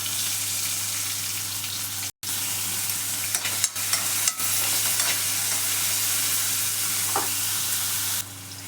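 Onions frying in hot oil with mustard seeds and cumin for a tempering, a loud continuous sizzle with occasional stirring scrapes and clinks of a spoon against the pan.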